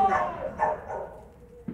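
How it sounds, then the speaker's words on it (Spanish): A dog gives a few quick barks, moderately loud and close, ending with a short final yip after a brief pause. "¡Cállate ese pinche perro"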